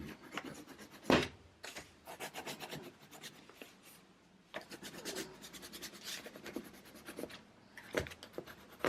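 Pencil scratching and rubbing across paper in bursts of strokes, close and fairly quiet, with short pauses between passages of drawing.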